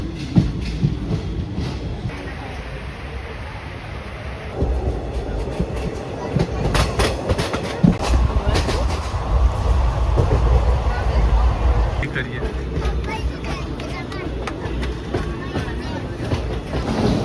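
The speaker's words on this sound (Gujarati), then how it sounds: "લોકલ ટ્રેન ફર્સ્ટ ટાઈમ આપણે આજે જોઈ આખી" A Mumbai local train runs past with rumbling wheels and rhythmic rail clatter, loud and close, as people talk over it.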